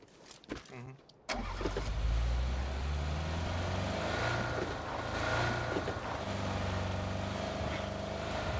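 After a few short clicks and thumps, a car engine in PUBG revs up and runs continuously, a steady droning rumble of driving with shifting pitch.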